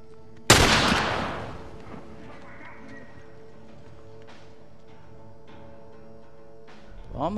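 A single loud sniper rifle shot in The Last of Us video game cracks out sharply, then trails off in a long fading echo over a low in-game ambience, with a faint thump near the end.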